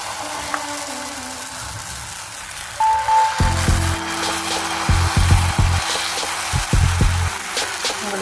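Half an onion rubbed across a hot dosa griddle gives a steady scraping, rubbing noise with faint sizzle, loud and close, in bursts over several seconds, with no talking.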